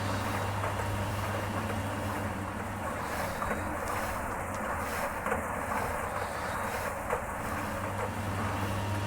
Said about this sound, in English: Factories whirring.